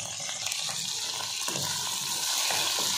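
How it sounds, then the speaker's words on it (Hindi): Thick salan curry gravy poured into a hot pan of melted butter for seekh kabab with chana, a steady wet splashing, sloshing stream close by that runs the whole time with no voices. "ठीक है जी, अब इसमें जाएगा सालन।"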